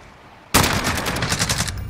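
After a brief quiet moment, loud close rapid-fire gunfire erupts in the video game Scar, a dense unbroken burst of automatic shots that continues to the end.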